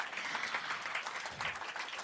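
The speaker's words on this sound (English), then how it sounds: "How about a round of applause, please, for all the gentlemen on stage?" Audience applause for the gentlemen on stage at the launch ceremony linking India's UPI with Singapore's payment system, a dense, even wash of clapping from a large crowd, faint and steady throughout.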